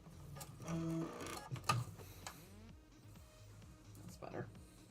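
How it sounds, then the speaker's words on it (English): A sewing machine stitches back over a bunched seam, its motor whirring in short runs with ticking needle strokes, close by, while someone talks over parts of it. "So I'm gonna just sew back over that real quick."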